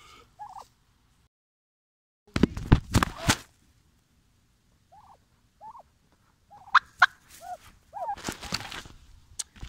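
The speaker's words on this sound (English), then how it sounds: "I'm trying to be invaded by turkeys." Several turkeys gobble in short rippling bursts, with footsteps and light thumps between calls, moderately near.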